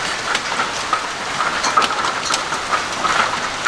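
Marble-sized hail pelts down in a severe, destructive storm, a loud, dense patter with sharp scattered impacts rattling nonstop throughout, and no one speaks.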